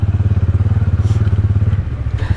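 Close, loud motorcycle engine on a steep mountain trail while braking, a steady low, fast-pulsing thump that drops off near the end, with faint rattles over it.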